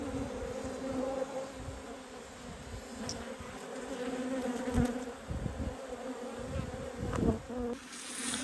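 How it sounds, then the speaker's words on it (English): Honeybees buzzing around an open hive during an inspection, a steady droning hum with individual bees passing close by, heard alone without talk. "This is the purple hive. Plenty of bees."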